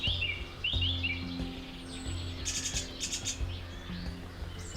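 Birds call and chirp on an autumn day, bright repeated tweets and warbling phrases nearby, with quieter low background hum beneath and no voices.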